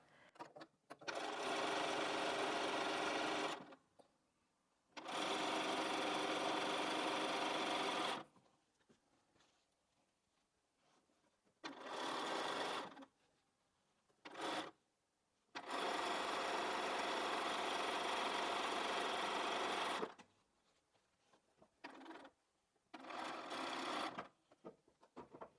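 Sewing machine stitching quilt border pieces one after another, loud steady whirring runs of several seconds separated by quiet pauses and short bursts.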